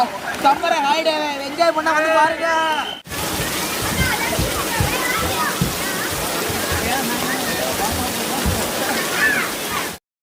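Falls at a Thanjavur-area water park roar in a steady broadband rush of splashing water for most of the clip, following a few seconds of music at the start.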